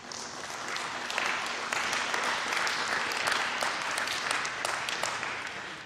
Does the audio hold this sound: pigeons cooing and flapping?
no